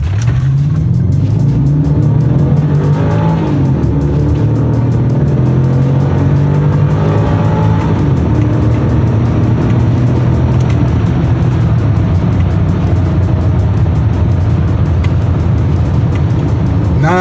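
A 2006 BMW X5 4.4i accelerates hard from a standstill to 60 mph in normal drive mode, its V8 engine note climbing through several gear shifts, heard loudly from inside the cabin without any talk.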